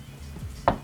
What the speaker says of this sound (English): Chop that in half.